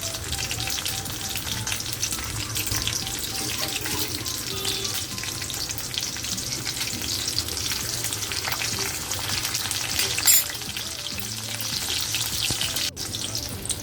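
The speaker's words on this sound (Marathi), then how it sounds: "त्याच्यामध्ये आता तेल घालून घेते. 4-5 लसणीच्या पाकळ्या घालायच्या" Garlic cloves and green chillies frying in oil in a wok, a dense, even crackling sizzle heard up close for the whole stretch, with occasional light stirring scrapes and no voices.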